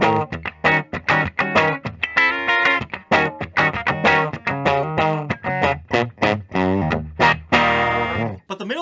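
A Gibson Custom Joe Bonamassa Bonabyrd, a 2015 Les Paul with a Firebird headstock, plays a distorted riff on its bridge pickup, loud and close, with choppy rhythmic chords and sustained notes running throughout without talk.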